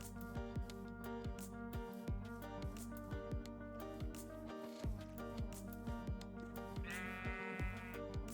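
Sheep bleating in the video game Minecraft, a faint bleat heard under game music and repeated clicking and thumping game sounds.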